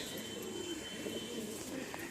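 Soft, steady cooing comes from red Madras and Fulshira pigeons kept together in a cage, a low rolling drone near at hand with an occasional brief chirp and no talk.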